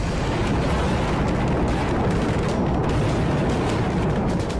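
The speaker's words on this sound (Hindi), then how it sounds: "ग्राउंड ऑपरेशन के लिए रास्ता बनाने के लिए हैवी आर्टिलरी फायरिंग इजरायली सेना कर रही है।" Israeli heavy artillery fires on southern Lebanon in a continuous, dense roar of booming blasts, loud and unbroken throughout.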